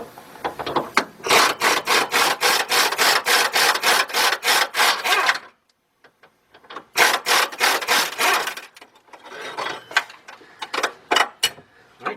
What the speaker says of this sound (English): 13mm bolt right here. So I'm going to hook up both my extensions. Get my edge in here. Let's get this bolt out.